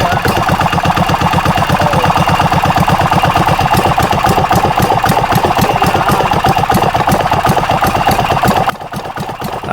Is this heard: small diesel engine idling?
yes